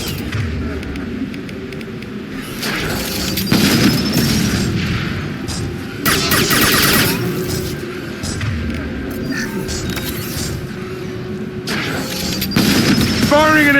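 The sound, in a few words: impact shot weapon firing in video game Mass Effect 2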